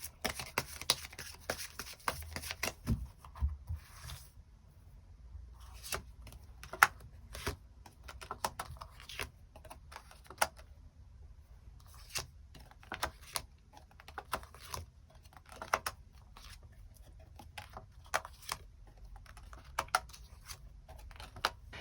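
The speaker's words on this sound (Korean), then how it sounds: "우리 관계가 앞으로 어떻게 흘러갈지 또 조언의 카드 뽑아보도록 하겠습니다." Tarot cards being shuffled and drawn, with scattered soft card flicks and papery taps in irregular bursts, close and quiet with no talking.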